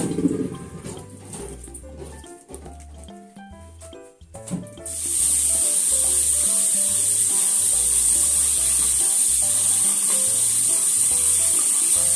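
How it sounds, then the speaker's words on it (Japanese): Tap water running steadily while komatsuna leaves are rinsed in a kitchen, a loud continuous hiss that starts abruptly partway through, over quiet background music. "葉っぱの方も洗います。"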